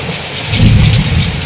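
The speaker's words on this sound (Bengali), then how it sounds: "বিদ্যুৎ মেঘ ডাকছে খুব" Thunder rolls through a heavy downpour, a deep rumble swelling in the middle of the clip over a loud, constant hiss of rain pouring close by.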